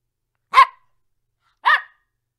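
A dog gives two short, sharp barks about a second apart, close and clear against silence.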